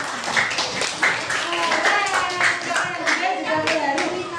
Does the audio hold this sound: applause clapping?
yes